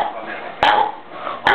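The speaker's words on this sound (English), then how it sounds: "She burped like 5 times in a row, like really loud." Loud burps erupt during a burping contest, two abrupt, harsh throaty blasts close to the mic over a noisy room background.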